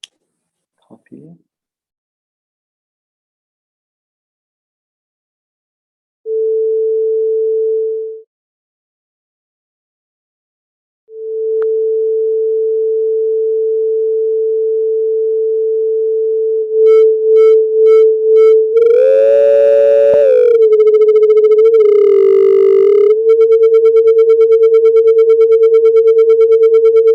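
Pure sine tones near 442 Hz sound one after another: first a short steady beep, then after a pause a long sustained tone that later wobbles and beats with added overtones.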